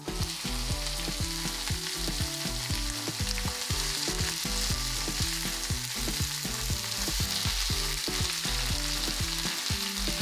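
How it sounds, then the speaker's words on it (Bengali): Potato biscuits deep-fry in hot oil over high heat, making a loud, continuous, close-up sizzle and hiss that never lets up, with low tonal sounds running beneath and no voices. "এভাবে হাই হিটে ভাজুন যতক্ষণ না সুন্দর সোনালি বাদামি রং আসে।"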